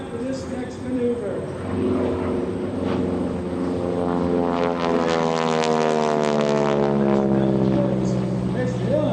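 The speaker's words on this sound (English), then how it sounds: "He's just going to roll the airplane." A radial-engine propeller airplane flying aerobatics at the Westmoreland County Airshow, its engine drone rising and shifting in pitch as it passes fairly close, with a commentator talking over it.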